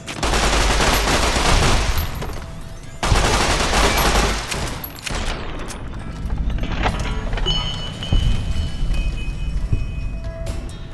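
Gunfire in the video game Fallout: New Vegas around Boulder City: dense bursts of rapid shots and fusillades, loud and continuous, with short gaps and scattered impacts in a busy in-game battle.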